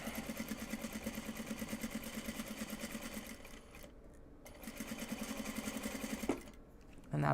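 A sewing machine stitching an upcycled obi and kimono bag runs in a rapid, steady mechanical rattle, close by, pauses briefly, resumes, then stops with a short clunk near the end.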